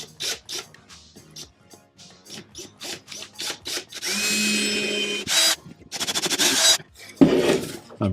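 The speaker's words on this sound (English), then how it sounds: "So I've drilled through." A power drill boring a 2.5mm pilot hole through a Boba Fett gauntlet piece: repeated short drill bursts, then longer sustained whining runs, all close and loud, with no talk.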